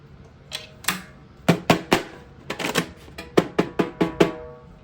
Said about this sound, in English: I'm gonna flick the strainer on, right? And I can tighten it up.